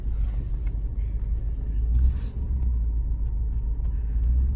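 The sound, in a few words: Cadillac DeVille with Northstar engine driving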